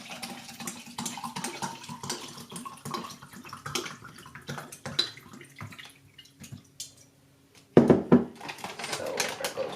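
Silver tequila is poured into a can for camping margaritas, giving a liquid trickle with drips and light clinks, a brief pause, then a louder splashing pour near the end, with no talking.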